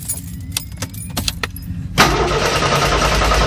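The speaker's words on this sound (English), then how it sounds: "Now to start the engine." A car engine cranks and fires up, preceded by keys jangling and clicking nearby, then settles into a loud, steady running rumble.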